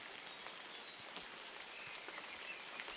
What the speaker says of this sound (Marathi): तर पाऊस पडत आहे बघा